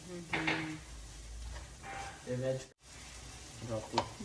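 Tomatoes go into a large kadhai for pav bhaji and fry with a sizzling hiss, broken by stirring scrapes and clinks of the pan, while voices talk nearby.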